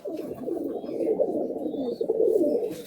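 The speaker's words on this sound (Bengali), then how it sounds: "ছেড়ে দেখেই দিচ্ছি পায়রাটাকে" Many pigeons in a full loft at Budge Budge, South 24 Parganas, Malwai and Madrasi birds, coo in a dense, continuous murmur close by, with faint higher chirps over the steady throaty rumbling.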